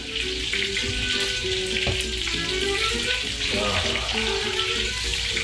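Loud, steady sizzling and popping of meatballs frying in oil, heard up close, with occasional faint clinks of stirring.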